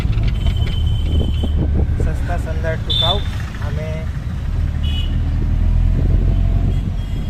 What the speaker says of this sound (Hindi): हम ऐसे ही पतली गलियों में घूम रहे हैं, इसीलिए हमने ये छोटी गाड़ी खरीदी।